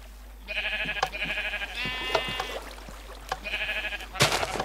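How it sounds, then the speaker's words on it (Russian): Sheep in the Minecraft video game bleat several times in quick succession, clear and close, with a few short clicks between the calls. "Вот только овец мне тут не хватает."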